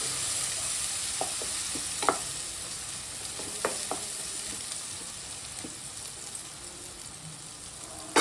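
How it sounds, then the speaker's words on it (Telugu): Ginger frying in a pan for a Telugu chinthapandu chicken and bagara rice dish, a steady sizzle with a few sharp scrapes of stirring spread across the clip, close and even, with no voices. "కొంచెం అల్లం పచ్చివాసన పోయినాక వేసుకోవాలి, వేగాలి."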